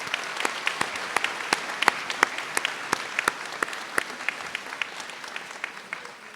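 An audience claps through a college convocation ceremony, sustained dense applause with sharp individual claps standing out near the microphone; cheering is not distinct.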